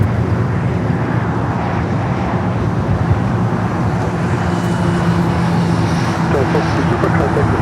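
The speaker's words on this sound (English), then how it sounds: "We do have United Flight 935 coming up from London Heathrow, the 787-9 Dreamliner next" A United Boeing 787-9 Dreamliner arriving from London Heathrow on the south side of LAX, a steady broad jet rumble that holds even and loud throughout, with airport radio chatter running underneath.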